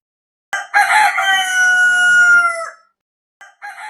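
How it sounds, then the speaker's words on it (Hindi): A rooster crows once at dawn near a forest, a loud, long drawn-out call that rises and holds before trailing off, followed by the start of a second call after a short silence. "उसकी बांग जंगल के पेड़ों में गूंजी"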